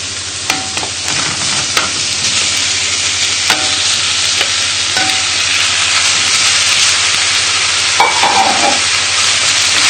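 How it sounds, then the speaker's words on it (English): Lamb pieces fry for a tagine, a steady loud sizzle and hiss filling the pan, with occasional scrapes and clinks of a utensil stirring the meat. "So we can now add in the lamb."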